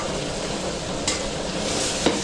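Ground meat sizzles and fries in a pan while a spoon stirs it, giving steady broadband crackle with a couple of sharper scrape accents; close and fairly loud, with no talk.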